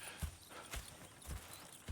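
Horses clip-clop in Red Dead Redemption 2, a few distinct hoof thuds spaced at an uneven walking pace, faint and nearby, over quiet background.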